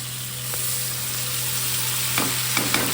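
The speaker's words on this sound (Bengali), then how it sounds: "মশলাটা দিয়ে দিলাম একটু হালকা নেড়ে দিলাম" Spice masala for paneer butter masala fries in butter in a pan, a loud steady sizzle broken by a few scraping stirs toward the end, with a constant low hum underneath and no voices.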